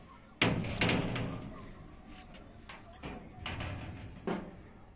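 A big door being closed, a sudden heavy thud followed by further knocks and rattles over a few seconds, close by with some muffled sounds around it.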